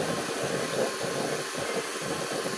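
The blower of a trumpo nozzle burner roars at full speed, a continuous broad airy rush with a low rumbling undertone, steady and close.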